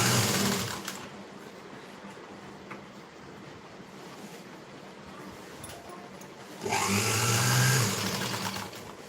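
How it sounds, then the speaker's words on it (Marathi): A sewing machine stitches around the round neckline of a princess-cut blouse, whirring at first, then a quieter stretch, then a louder burst of running near the end, heard close with no voices. "पूर्ण गळ्यावरती ह्याच पद्धतीने आपल्याला शिलाई मारून घ्यायची"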